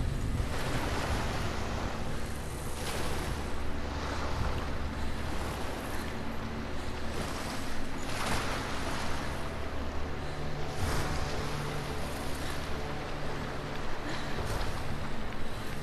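Waves washing against the shore in the video game Hellblade: Senua's Sacrifice, a steady broadband surf roar with gusts of wind, continuous and fairly close, with no talking.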